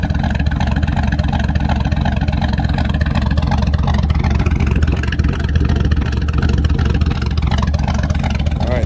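Chevrolet Silverado V8 with a BTR Truck Norris camshaft and muffler deleted, idling in gear with a loud, steady, lopey chop that never lets up.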